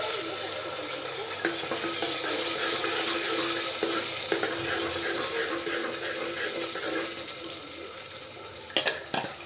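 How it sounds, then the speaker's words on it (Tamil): Water swishing around inside a mixer grinder jar as it is rinsed out with a small splash, a steady close wet rattle in a home kitchen making chicken chalna, with a few sharper knocks near the end. "கொஞ்சமாக தண்ணி விட்டு ஜாரை வந்து அலசணும்."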